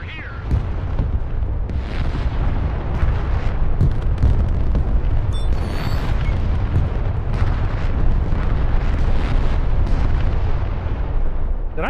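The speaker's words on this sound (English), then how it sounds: "I think they just blew up my mortar launcher" Explosions and heavy artillery-like booms rumble through a modern military video game battle with tanks and heavy armor, as a mortar launcher is blown up amid continuous loud combat noise from start to finish.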